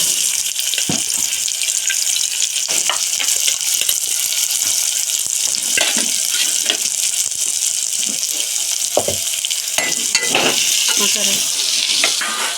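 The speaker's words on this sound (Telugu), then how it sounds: "ఆయిల్ అయితే వేసాను ఇప్పుడు అయితే ఆనియన్స్ వేసేసుకుందాము" Onions frying in oil in a pan for a curry give a constant hiss throughout, with scattered clicks and scrapes of utensils and a voice heard now and then.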